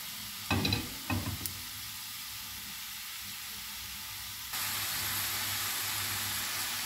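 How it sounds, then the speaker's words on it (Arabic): Chopped peppers fry with onion in a pan, a soft sizzle with a few scraping stirs near the start, then a brighter, louder hiss that rises midway and holds steady to the end, with no voices. "بعد ما ضفت الفلفلة على البصلة حتى هي تشحر معايا شوية"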